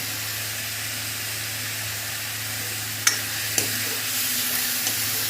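Onions frying in a pan, a steady loud sizzle and hiss throughout, with a couple of brief clinks of a utensil against the pan near the end.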